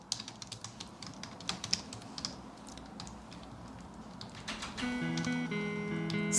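Close computer keyboard typing as text goes into a form field, a quick run of sharp key clicks that thins out and stops, followed by a steady hum.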